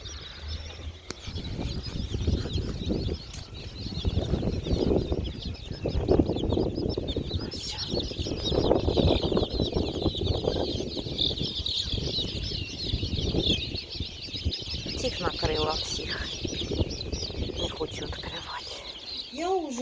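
Chickens and chicks cluck and chatter close by in a busy yard, with faint peeping and occasional wing flutters, some low voices mixed in.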